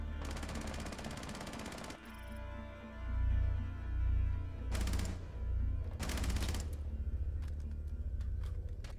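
Gunshots in a video game sound as a burst of rapid fire, then several loud, sharp single shots over a low rumbling game ambience, with a few fainter clicks afterward.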